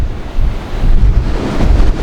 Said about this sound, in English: these are really big waves currently